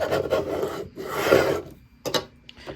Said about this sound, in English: Rub it with our scraping tool. Don't want to press too hard.